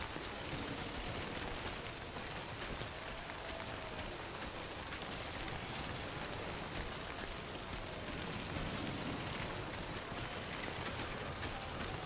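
Steady timefall rain in Death Stranding, a dense, unbroken hiss of rainfall pattering on surfaces, loud and constant throughout with no voices.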